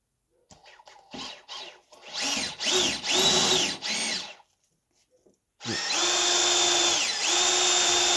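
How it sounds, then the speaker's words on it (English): A small step drill bit on a power drill bores through material during a kid's snowmobile build, heard as several short whining bursts followed by a long steady run, close and loud. "Then I got myself just a little one of these step bits."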